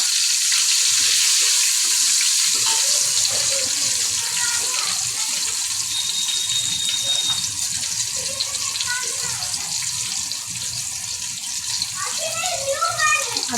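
Tomatoes drop into hot oil with asafoetida, bay leaf and curry leaves for a Marathi-style mutton curry. A loud, continuous sizzle sounds close by throughout, and someone talks over part of it.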